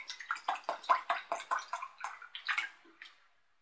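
Water pours in a steady, close stream with a rhythmic glugging pulse, tapering off toward the end.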